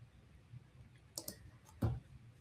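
Mouse clicks on a button in a brokerage trading platform: a few faint, sharp clicks, a quick pair near the middle and a firmer single one shortly after, over a quiet low hum.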